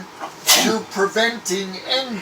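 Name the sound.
sneeze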